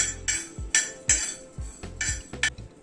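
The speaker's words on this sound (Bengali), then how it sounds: "এই মিনিট 2 মতো মশলাটাকে একটুখানি নাড়াচাড়া করে নিলাম" Spices roast on a hot griddle while a spatula stirs them in repeated metallic scrapes and clinks, about six bursts spaced evenly in a steady rhythm, close and moderately loud.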